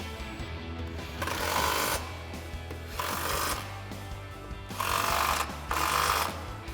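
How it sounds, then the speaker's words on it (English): A socket wrench tightens 13mm strut mounting nuts while a front strut tower brace goes onto a 2008-2023 V8 HEMI Dodge Challenger, giving four bursts of fast, close ratchet clicking separated by brief pauses. "we'll grab our 13mm socket, tighten all these down"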